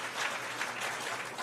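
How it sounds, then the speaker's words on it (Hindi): Loud, dense audience applause fills the hall at a live public event, steady clapping without a break and no voices rising above it. "आप सब एक बार जोरदार तालियां उनके लिए भी बजा दीजिए"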